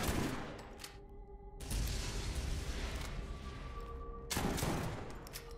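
Rapid bursts of gunfire in Borderlands, loud and close, rattling in dense volleys with a short lull in the middle before the shooting resumes.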